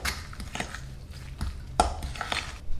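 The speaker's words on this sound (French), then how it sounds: "Je mélange à nouveau." Spoon scraping and clinking in a bowl while ricotta and a whole egg are mixed for gnocchi dough, a few short irregular knocks and stirring scrapes, close and fairly quiet.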